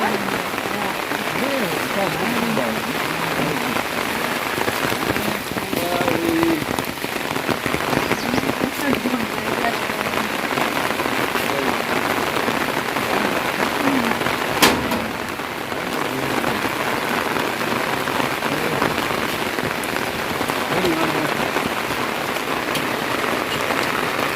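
Heavy rain pours down in Jaffna, a steady, loud, unbroken hiss of drops hitting surfaces that lasts the whole time, with no clear voices above it.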